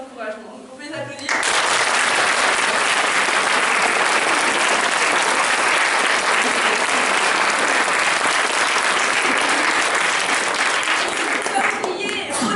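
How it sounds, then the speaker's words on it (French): Audience applause breaks out after a school performance of Anouilh's Antigone held in a lycée hall, starting after a brief quiet moment and holding as a loud, dense, steady clapping for about eleven seconds before easing slightly at the end. "Donc on peut les applaudir."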